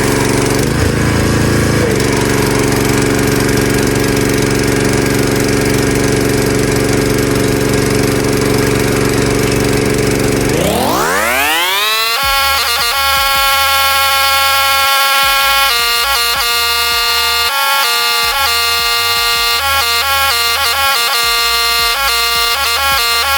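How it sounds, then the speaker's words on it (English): A pressure washer spraying a dirt bike roars in a loud, steady engine drone close by. Partway through, its pitch sweeps upward into a higher, tonal whine, and the spray noise goes on uninterrupted. "I'm gonna give it one last wash with the pressure washer"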